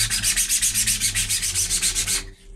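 Rapid rhythmic sanding strokes on primed 3D-printed plastic parts, about fifteen quick even scrubs, close and loud, stopping abruptly near the end.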